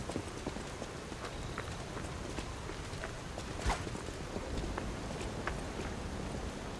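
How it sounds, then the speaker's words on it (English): Steady rain in the video game Lies of P patters continuously, a dense even hiss with scattered drips and taps, no voices. "it's so rainy"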